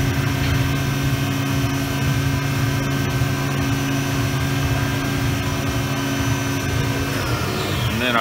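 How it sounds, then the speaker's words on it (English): Machine running at high speed drilling holes with carbide tooling into a Highland Park 16 inch saw vise base, a steady loud motor whine and grinding hum that holds evenly throughout, shifting slightly near the end. "Now we're going to drill the holes before tapping. Got it cranked up so we can really take the material out fast using carbide."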